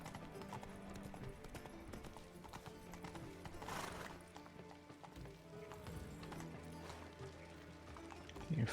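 A horse galloping in the video game The Witcher 3, fast rhythmic hoofbeats at a fairly quiet level, steady through the stretch with faint ambient noise beneath and a brief louder bump at the very end.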